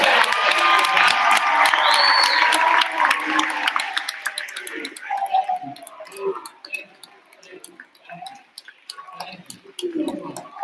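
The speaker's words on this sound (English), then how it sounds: "I'd like all the soloists from both choirs to please come forward for another round of applause" Audience applause and cheering for choir soloists at a Charlotte Catholic High School event, dense and loud for the first few seconds, then thinning into scattered claps and crowd murmur with voices talking.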